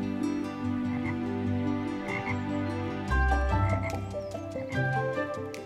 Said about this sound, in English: A bullfrog bellowed his morning croak.